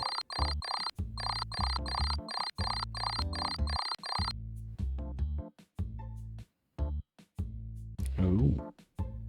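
Repeated electronic phone ringtone trilling in steady bursts, loud and close, then stopping and giving way to scattered clicks and a brief chime.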